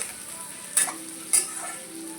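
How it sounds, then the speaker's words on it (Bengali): Onion and ginger paste fries in a pan with a constant sizzle, broken by two sharp scraping stirs of a spoon. "আদা বাটা দিয়ে আমি এক মিনিট মতো ভেজে নেব"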